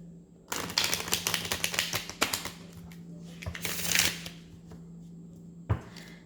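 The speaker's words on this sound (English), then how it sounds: "let's start with shuffling it a little bit" Tarot cards are shuffled close up, with rapid riffling flutters in two bursts separated by a pause, then a final soft tap of the deck; a low hum sits underneath.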